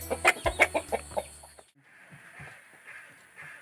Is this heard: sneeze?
no